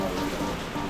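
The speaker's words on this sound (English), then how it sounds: "How long is it supposed to rain?" Rain falls steadily at a Bahamas beach resort, a soft, even patter and hiss heard alone at moderate level.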